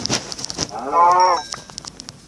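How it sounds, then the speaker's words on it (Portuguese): A cow in a video game gives one short, close moo amid scattered clicks and small game noises. "Nossa, que tem muita vaca."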